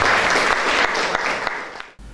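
Loud, dense applause from an audience at a gathering in Maluku, honoring small and medium business owners; continuous close clapping for about two seconds that cuts off abruptly at the end.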